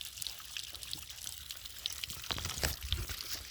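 Water pours and trickles from a loosened pipe fitting outdoors in a remote village, a steady close splashing flow with occasional brighter drips and gurgles, no one talking.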